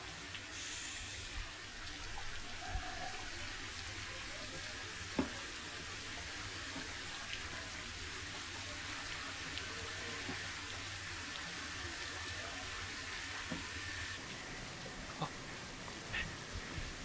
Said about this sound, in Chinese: 莫名其妙下什么雨嘛？